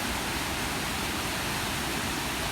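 Waterfall pouring into the Devil's Kettle near Grand Marais, Minnesota: a constant, loud roar of falling water, broadband and unvarying, with no speech.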